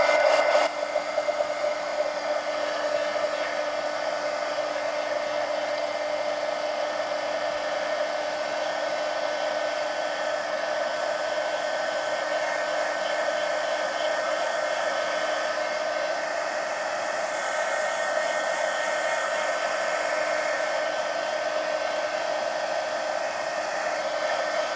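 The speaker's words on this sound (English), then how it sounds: "Hit it with the heat gun." A heat gun blows steadily while drying an ink drawing, a continuous whooshing whine with a faint tonal hum, constant and fairly close, running without pause and with no voices.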